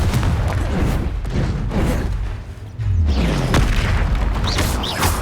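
A Confringo fire spell blasts in Hogwarts Legacy, a string of deep booming explosions over a dense, rumbling battle backdrop, with one sharp impact around the middle and swooshing magical effects toward the end.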